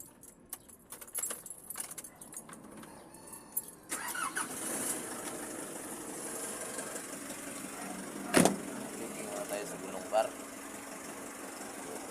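Keys jingle near the start, then the engine of an NB350 unit catches at about four seconds and settles into a steady warm-up idle, with a couple of brief louder bursts over the running.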